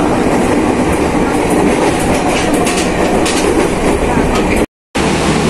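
The KA Dharmawangsa passenger train running on rails between Pasar Senen and Gang Sentiong, heard from inside as a loud, constant rumble with rattling carriage noise and wheel clatter, briefly cut to silence near the end.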